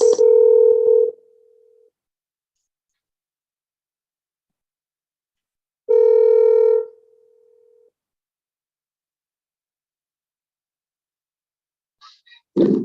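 Phone ringback tones while returning a missed call, two long steady beeps about six seconds apart, each lasting roughly a second, in otherwise silent surroundings, with a brief voice starting at the very end.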